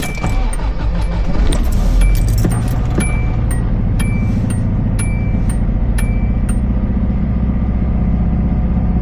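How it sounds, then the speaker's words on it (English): Keys jingle sharply as a 30-year-old Subaru Loyale's engine turns over and settles into a loud, steady idle rumble, with light metallic clinks continuing on top. "I think I am gonna turn the car on."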